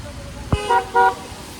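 Road traffic on a rainy day in Dhaka, a short thump followed by two toots of a car horn close by over low engine and road rumble.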